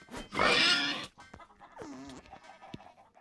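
Chickens in the Roblox game Blox Loot, a burst of noisy squawking clucks followed by a short rising-falling cackle and scattered clicks, fairly close and alone without talk.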